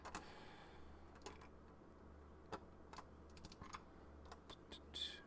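Keycaps are pressed onto a Corne keyboard in a quiet room, giving scattered faint clicks and taps at irregular intervals, with a slightly sharper snap near the end.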